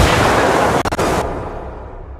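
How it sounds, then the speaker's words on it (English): Mortar fire in the tactical shooter Ghost Recon Wildlands: a loud, continuous roar of blasts and debris with a brief triple thud near the middle, then a sudden drop to a fading rumble. "Uh-oh, mortar, get out of that."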